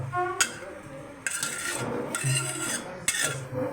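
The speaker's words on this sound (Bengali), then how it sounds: "নাড়া দিয়ে দাও" Drumstick lentil dal stirred in a metal cooking pot, with three bursts of close spoon scraping and clinking against the pot amid a low background of kitchen noise.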